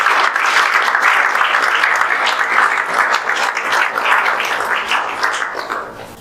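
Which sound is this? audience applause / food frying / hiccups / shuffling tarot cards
audience applause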